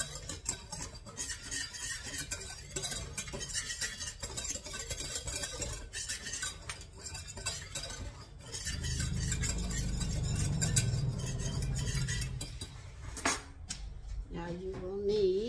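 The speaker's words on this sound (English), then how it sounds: "I use a whisk to make sure I get it good." A whisk scrapes and clinks steadily against a bowl while mixing mayonnaise for a lemon chicken salad, a busy rattling texture with a low rumble partway through and a brief tonal sound near the end.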